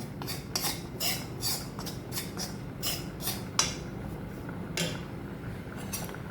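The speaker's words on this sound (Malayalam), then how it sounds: "ഇത് സ്റ്റീൽ പാത്രമുണ്ട് ചിലപ്പോൾ ഇങ്ങനെ അടുക്കി പിടിക്കും അതുകൊണ്ടൊന്ന് ഇളക്കി കൊടുക്കുക" Macaroni being stirred in a steel pot with a utensil, producing a series of irregular metallic scrapes and clinks over a low background hum, close and moderately loud.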